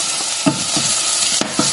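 Leeks sizzle and crackle in hot oil in a pan, close up, with a few soft scraping stirs punctuating the steady frying hiss.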